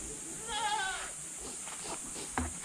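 Goats on a farm bleating, a wavering cry near the middle followed by a few fainter calls and a short thump, with no talk.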